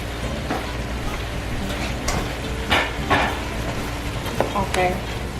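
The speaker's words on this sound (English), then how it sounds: "I'm also gonna go ahead and add the tomatoes that we chopped up." Chopped tomatoes being stirred into a meat sauce in a pan make a soft ongoing sizzle with bursts of scraping and clattering from the spoon, fairly close.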